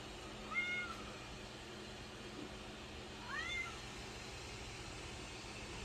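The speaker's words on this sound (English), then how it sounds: "And then I have a cat." A house cat meows twice in a room with 3D printers, two short distinct calls a few seconds apart over a steady background hum.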